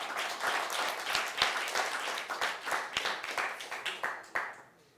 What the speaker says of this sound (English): let's give a warm round of applause for Eli Schuchert